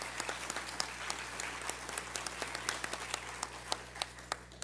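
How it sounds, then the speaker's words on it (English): An audience at a board of education meeting applauds graduating students, moderate steady clapping with distinct individual claps standing out, sustained throughout. "So let's give them a great round of applause."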